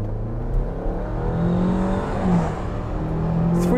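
A Ford Bronco's turbocharged 2.3-litre EcoBoost engine accelerating hard, a steady loud interior drone with the pitch climbing as revs build, with no talk over it.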